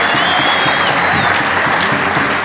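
Dense, steady applause from a seated audience at a church leaders' plenary assembly, loud and close throughout, with a faint whistle-like tone drifting across the clapping.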